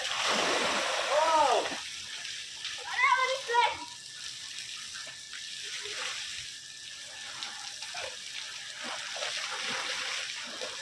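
Water splashes softly at a swimming pool in Maya Kanan Park, Kishoreganj, as boys play and swim, with children's voices chirping and calling over the faint, continuous lapping and splashing.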